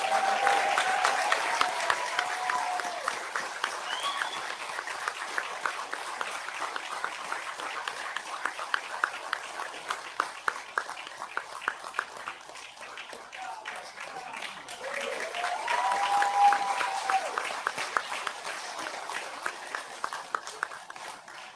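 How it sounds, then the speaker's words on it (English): Audience members at a school district board meeting for Asbury Park High School applaud students with steady, sustained clapping that runs for over twenty seconds at a moderate, fairly distant level, swelling slightly near the end. "let's give those students a round of applause"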